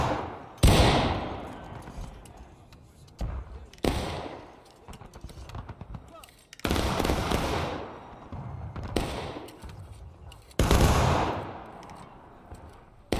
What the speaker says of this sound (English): fire at them. Shoot them. Fire at will, boys.